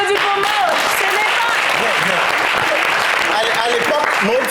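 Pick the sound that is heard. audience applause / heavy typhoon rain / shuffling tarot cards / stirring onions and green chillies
audience applause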